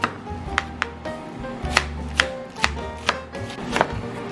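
A knife slices onions on a cutting board for a bratwurst, potato, sweet potato and pepper dinner, with a run of about eight or nine distinct, evenly spaced chops, close and crisp, over a low background hum with no talking.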